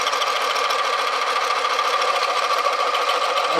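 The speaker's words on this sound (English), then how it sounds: "can you hear that rattling going on?" A woodturning texturing tool chatters against a spinning wooden platter, making a loud, continuous, rapid buzzing rattle that stays steady the whole time, with no talking.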